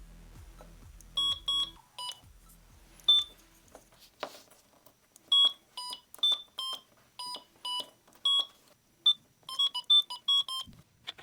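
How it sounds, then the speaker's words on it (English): An Arduino Uno synth driven by a four-button MIDI controller plays tunes through a small speaker: clipped, bright electronic beeps in short bursts and runs of notes, separated by quiet gaps, close and clear. "the Arduino Uno synth belted out tunes via the controller's 4 button inputs"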